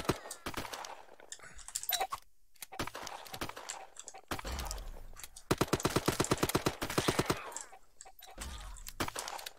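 Rapid, overlapping bursts of gunfire crackle from many directions in the egg-themed shooter game Shell Shockers, coming in clustered volleys with short gaps between them. A fast run of shots near the middle is the loudest stretch.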